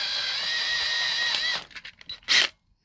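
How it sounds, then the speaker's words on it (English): A power drill bores out a rivet through a truck bed, running as a high steady whine for about a second and a half before stopping, followed by a few brief clanks and a short scraping burst. "We drilled through the bed."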